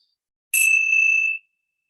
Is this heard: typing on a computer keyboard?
no